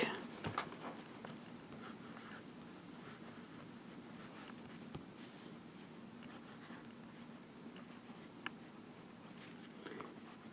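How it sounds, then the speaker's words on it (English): Steady scratching of a Pilot Prera fountain pen with a medium nib gliding across paper, close and quiet, with soft strokes and small ticks running continuously with no talk. "Let's do some writing"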